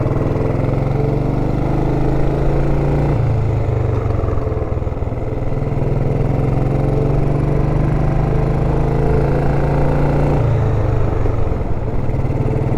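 A 1931 Ariel motorcycle engine drones loudly and steadily while riding, with a low throbbing note that shifts pitch as gears change, up close with wind noise and no talk.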